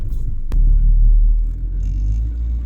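A 2003 Toyota Corolla that is being repaired for a sputtering problem gives a low, steady engine rumble while driving, with one sharp click near the start and a smooth, close hum that follows.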